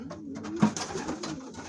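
Pigeons, young birds and their companions, cooing softly at close range while feeding, with low throaty coos and faint scuffling over a steady background.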